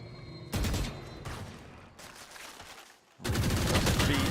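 Sustained bursts of rapid fire from an Odin machine gun in a Valorant match, loud and continuous with a brief lull before a heavy final stretch.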